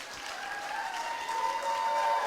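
An audience at a community event about segregation and Black Lives Matter claps in sustained, dense applause that builds slightly louder toward the end, with faint voices mixed underneath.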